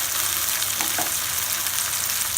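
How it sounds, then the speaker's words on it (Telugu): Ginger garlic paste sizzles steadily in a hot pan for an Andhra-style fish curry, a continuous close frying hiss with faint stirring scrapes and no voices. "అల్లం వెల్లుల్లి పేస్ట్ పచ్చివాసన పోయేంత వరకు ఫ్రై చేసుకోవాలి."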